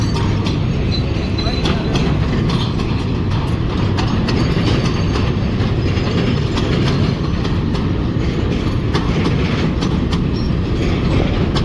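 A long freight train rolls past nearby in Kenya, its wheels clattering steadily and loudly with rhythmic clicks and metallic rumble throughout.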